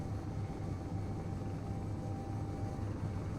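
Inside an aircraft cabin in a video game, a steady, even engine drone hums continuously at moderate level, with no talking over it.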